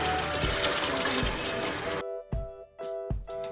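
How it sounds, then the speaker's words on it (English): Water pours into a container in a steady, close rush, then breaks into a few short separate splashes as the pouring stops and restarts. "Next, we filled a container with water."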